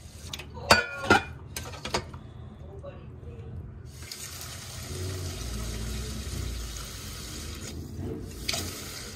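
Water poured into a Saladmaster 3-quart pot holding rice, a few clinks and taps of the pot first, then a steady close splashing pour lasting several seconds.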